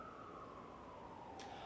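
A siren passes outside, one long faint wail sliding slowly downward in pitch over a steady background hiss, with no one talking.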